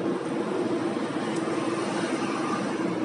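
Skoda Roomster 1.2 litre petrol engine pulling uphill in fifth gear with three people aboard, a steady continuous drone heard from inside the car, with no voices.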